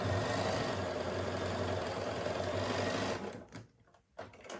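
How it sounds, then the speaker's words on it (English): A home sewing machine stitches quilt block pieces for a flying geese block, a steady close mechanical whir with rapid needle rhythm for about three seconds, then stopping with a few soft handling clicks. "I will put it under my machine and sew."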